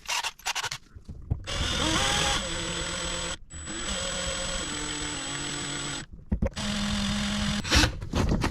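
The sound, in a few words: drill drilling out rivets on a Ford starter solenoid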